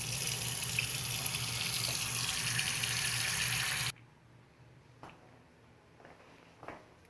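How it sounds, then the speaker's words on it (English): Tap water pours steadily into a plugged sink to fill it a couple of inches deep, a loud continuous rush that stops abruptly partway through, leaving a quiet room with a few faint knocks. "we need to plug this sink and add a couple inches of water"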